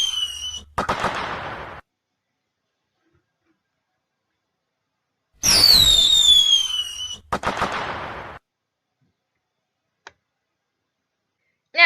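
Fireworks: two bursts of whistling launches followed by dense crackling, fizzing explosions, close and loud, separated by silence, with a faint tick and another burst starting at the end.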